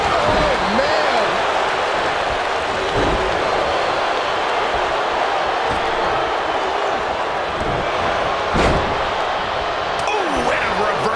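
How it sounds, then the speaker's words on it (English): A roaring arena crowd in the WWE 2K24 wrestling game keeps up a dense, steady wash of cheering, with occasional sharp thuds and a voice talking over it. "Listen to this crowd"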